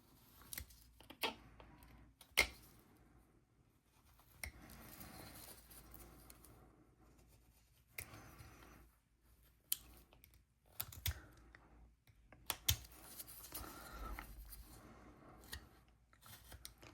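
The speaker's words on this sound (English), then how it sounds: "it's just a stop cut here on all 4 sides" A knife carves stop cuts into wood, producing scattered sharp clicks and short scraping slices separated by quiet pauses, close and fairly faint.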